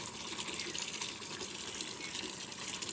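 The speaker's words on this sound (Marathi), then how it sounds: "भरतोय पाणी." Tap water pouring steadily into a container outdoors on a hot day, a continuous close gushing fill with no voices over it.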